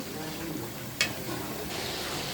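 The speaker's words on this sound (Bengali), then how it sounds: "এখন ফুলকপিগুলো দিয়ে আবার একটু ভালো করে কষাই নেব" Cauliflower, flat beans and potatoes stir-fried in a pan make a steady, close sizzle broken by one brief sharp scrape of the spoon.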